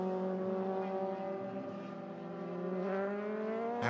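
Euroformula Open single-seater race car accelerating hard at Silverstone during qualifying, a loud steady engine note climbing through the gears with a strong harmonic whine, close and continuous throughout.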